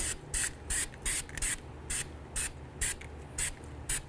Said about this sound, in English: Just going to spray a little bit on there, let that sit.